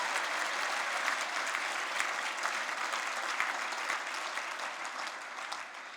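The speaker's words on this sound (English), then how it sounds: "let's give Governor Greg Abbott a round of applause for all of his work that he does" Dinner crowd at a Republican Party gathering applauds Governor Greg Abbott, a dense, steady round of clapping that holds at full strength throughout with no voices over it.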